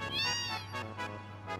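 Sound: cat meowing

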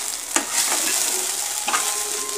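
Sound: okra poriyal frying in a pan

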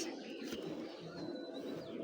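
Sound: foreign racer pigeons cooing

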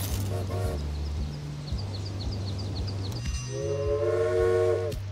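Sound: train in the video game Railway Empire

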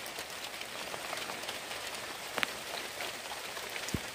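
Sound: heavy rain falling

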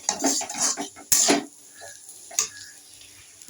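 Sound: stirring and frying vegetables with spices for paneer

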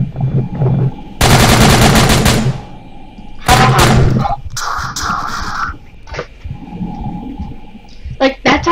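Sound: gunfire in the video game SCP: Containment Breach

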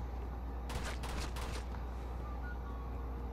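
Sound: gunfire in video game Uncharted 2 Among Thieves

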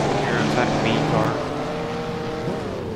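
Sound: Alfa Romeo racing car engine in Assetto Corsa video game

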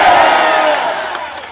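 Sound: Renaissance Faire crowd shouting yeah

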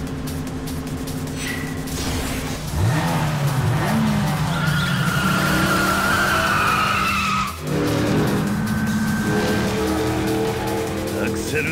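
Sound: car engine and tire skids in Yakuza 5 video game

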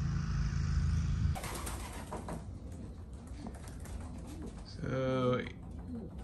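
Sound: homing pigeons returning to loft

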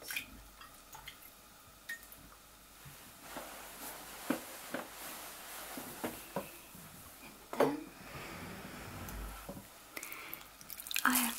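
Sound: rinsing hands in water

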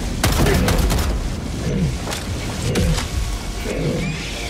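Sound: mortar stratagem shells firing and exploding in a video game

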